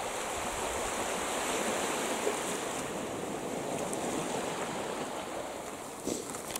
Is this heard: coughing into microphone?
no